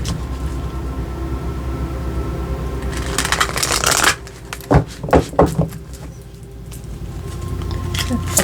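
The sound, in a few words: shuffling tarot cards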